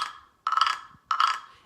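A pig-shaped guiro with two raspy ridged sections is scraped in three short, gritty rasps, each a buzzing grunt-like burst fading out, close and fairly quiet.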